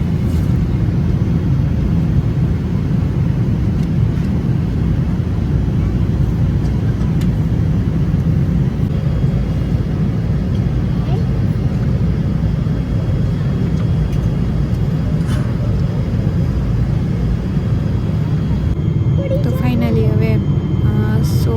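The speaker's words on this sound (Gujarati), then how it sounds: "સોળથી સત્તર કલાકની જર્ની પછી પ્લેન લેન્ડ થવાની તૈયારીમાં છે" Steady, loud low roar inside an airplane cabin as the plane prepares to land after a sixteen-to-seventeen-hour flight to the USA. The drone is constant, with a brief voice near the end.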